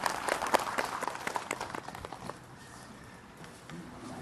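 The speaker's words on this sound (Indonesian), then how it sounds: "Tepuk tangan buat Kak Widya" An audience at an Islamic talk program applauds as a speaker is called up, with brisk, fairly close clapping for about two seconds before it fades into quiet room tone.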